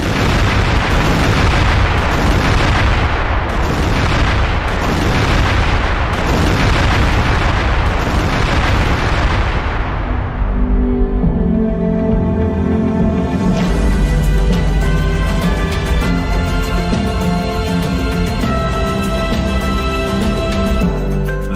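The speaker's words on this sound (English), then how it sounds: "This is the moment that Israeli airstrikes hit." Israeli airstrikes on Iran in news footage: a heavy run of loud, rumbling explosions and booms, repeated blasts giving way to a sustained roaring, ringing tail.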